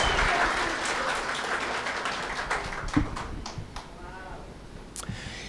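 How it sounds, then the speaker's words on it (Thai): A church congregation claps together in a short round of applause that starts full and thins out over a few seconds, with a few voices faintly underneath. "So let's give them one more round of applause"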